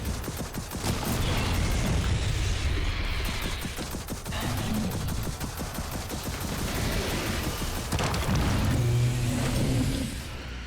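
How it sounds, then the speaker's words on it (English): Rockets fire and explode in Gears of War 4 during a loud, dense barrage, with continuous blasts, rapid gunfire-like bursts and crashing impacts that run throughout at full intensity. "Rockets away. Oh, Firing now."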